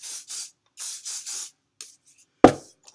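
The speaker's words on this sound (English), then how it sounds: "So I'm going to give this a light spray." Several short bursts of hairspray hiss in quick succession onto waved hair, fairly close, followed by a sharper clatter near the end.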